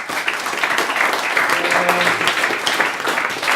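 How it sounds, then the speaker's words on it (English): A final round of applause from an audience at an accessibility talk, a full, loud wash of clapping that holds steady, with faint voices murmuring underneath. "final round of applause, please"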